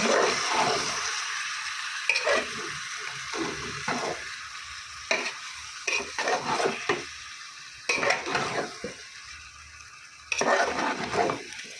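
Tomato, salt and a little water go into chicken frying in a pan, a steady sizzle broken by loud bursts of stirring and pan scrapes, close and with no talk.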